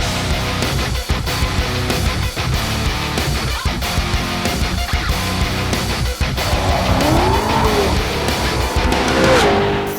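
A Ford Mustang RTR Spec 5 project car, over 800 hp, roars loudly up close with rapid gear shifts, then its tires squeal in a drawn-out skid as the engine keeps revving.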